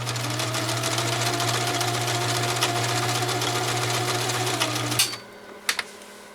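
A Kenmore 1351 sewing machine, restored after arriving in critical condition, stitches a zigzag with a steady, close mechanical whir and hum that runs for about five seconds before stopping, followed by a couple of small clicks.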